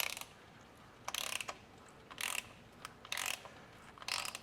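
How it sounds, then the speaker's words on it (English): Thread tap cutting a thread into an oil sump drain plug hole, heard as four or five short bursts of ratcheting, scraping clicks, spaced about a second apart over a quiet background. "when you're cutting a thread, you go back and forth a little bit"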